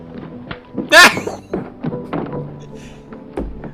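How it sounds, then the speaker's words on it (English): A sharp, heavy thunk of a punch sound effect in an old film hits once, loud and close, amid short bursts of talking from several voices. "When he punched him, it just sounds like this."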